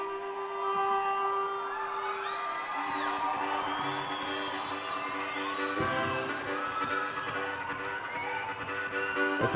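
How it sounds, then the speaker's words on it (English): A large concert crowd cheering and whooping at the Wave Aid 2005 benefit show, a steady, dense wash of shouts and whistles heard at a distance with some talk over it. "That's a big crowd"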